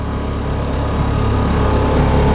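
A Toolcat utility vehicle's engine runs steadily during snow clearing, a continuous low rumble that holds even and close throughout with no talk.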